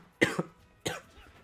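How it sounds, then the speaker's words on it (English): Two harsh, throaty coughs a little over half a second apart, close and fairly loud against a quiet background, from someone streaming a Super Smash Bros Ultimate amiibo tournament. "I'm sorry about the cough"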